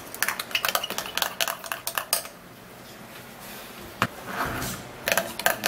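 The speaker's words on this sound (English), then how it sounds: "we'll stir it all up" A spoon stirring a vitamin C skin toner mixture in a bowl, giving a quick run of clinking, scraping taps, then a pause, a single knock and more clinks near the end, close and fairly quiet.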